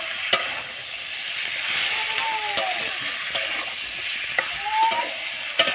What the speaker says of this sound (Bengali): এবার ভাজা ভাজা হয়ে গেলে কমপ্লেট মাছটা দিয়ে নাড়বো আমরা